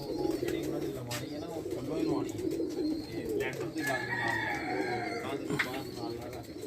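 Several pigeons of many breeds coo repeatedly in a loft in soft, overlapping rolls, with someone talking throughout over the birds.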